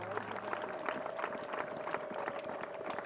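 Congregation applause rings out at an ADEPR Rubona church gathering, a dense, steady patter of clapping through the whole span with a sustained tone and voices mixed underneath.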